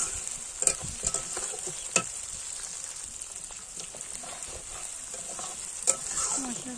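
Masala for a Bengali mutton curry fries in a pan and is stirred steadily, giving a continuous close sizzle broken by scraping strokes of the spoon.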